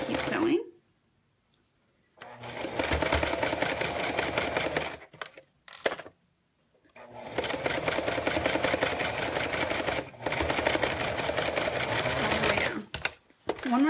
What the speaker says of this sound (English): I'm going to keep sewing